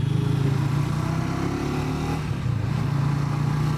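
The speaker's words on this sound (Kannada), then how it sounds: "ಹಂಗಾಗಿ ಗಾಡಿ ಇಸ್ಕೊಂಡು ಹೋಗ್ತಾ ಇದ್ದೀನಿ." A Triumph 350 motorcycle cruises steadily on the road, its engine a continuous low, throbbing drone with faint wind rush and no talking.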